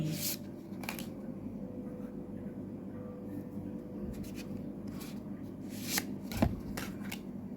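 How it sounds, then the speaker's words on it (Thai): Oracle cards being shuffled by hand during a spiritual card reading, a soft steady riffling with a few sharper card snaps near the end, close and fairly quiet with no talking. "เดี๋ยวจะเลือกไพ่สำหรับข้อความวันนี้จำนวน2ใบ"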